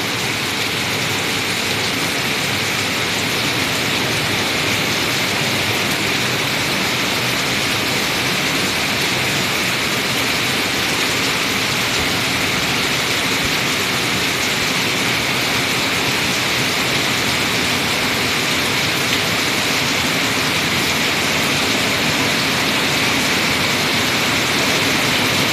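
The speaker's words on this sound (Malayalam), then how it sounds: "ഇപ്പോൾ മഴയുടെ ശക്തി ഒന്നുകൂടി വർദ്ധിച്ചിരിക്കുകയാണ്." Heavy monsoon rain pours down at Anakkal near Kanjirappally, Kerala, a dense, unbroken roar that stays loud and constant throughout, with no voices.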